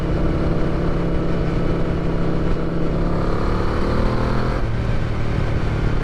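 A restored Yamaha Vmax muscle bike's engine roars continuously under acceleration, a deep, loud, rumbling drone with wind noise, recorded while riding.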